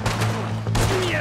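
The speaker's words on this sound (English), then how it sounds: "Oh, you're shooting." Rapid gunfire from a shootout in Red Dead Redemption 2, several loud close shots in quick succession within a second, with a hum of background sound beneath.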